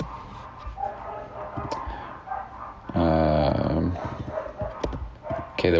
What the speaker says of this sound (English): you guys hear those dogs?